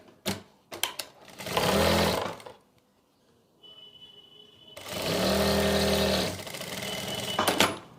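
A sewing machine stitches two Patiala salwar pieces together along one side, running in two long bursts with a brief quiet gap between them and short starts and stops at each end.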